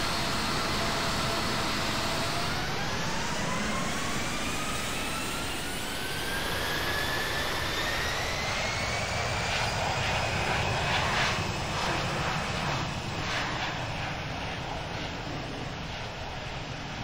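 A simulated airliner takes off from runway 4 left at JFK in Infinite Flight, its jet engines swelling into a loud, steady roar with a rising whine that climbs and holds for the whole run, no voices.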